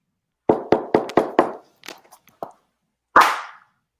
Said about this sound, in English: Knock again if you don't mind.